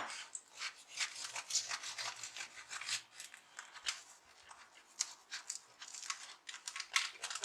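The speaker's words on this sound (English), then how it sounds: "slice my ciabatta" A knife sawing through ciabatta bread on a chopping board, repeated crisp rasping strokes of a crusty loaf, close and fairly quiet with no talking.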